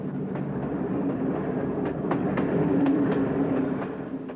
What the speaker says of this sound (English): they're forced to take the black train to Budapest